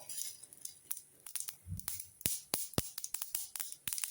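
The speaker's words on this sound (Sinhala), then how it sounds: "ඔයාලට ඇහෙනවද අබ පුපුරන සද්දේ?" Mustard seeds pop and crackle in hot oil in a heated pan, giving a run of sharp, irregular snaps close by, scattered across the whole stretch with no talk.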